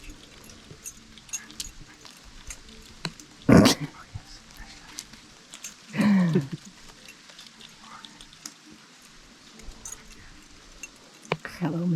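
A dog in a peaceful spot in Pai, Thailand gives a couple of short growling barks, fairly close, amid sparse scratching and small handling noises.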